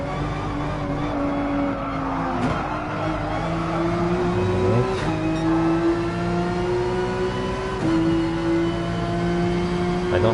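Race car engines in Gran Turismo Sport at the Nürburgring drone steadily and loudly, with pitch climbing and dropping through gear changes and a few sharp shifts, multiple cars audible at once with no talking.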